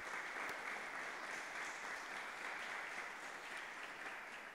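A church congregation applauds during a sermon, a steady wash of distant clapping that stays even and fairly faint throughout, without voices over it.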